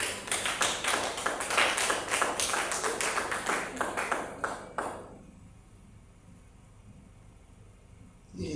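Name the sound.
congregation clapping and acclaiming in church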